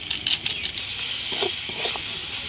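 Spiced masala with coriander powder, salt and red chilli powder fries in a pan for chicken devil, a soft continuous sizzle and hiss close by with a few faint stirring clinks.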